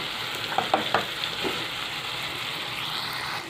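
Meat frying in a pan for an Assamese gahori pork dish, steady close sizzle with a few sharp stirring clinks early on, no talk.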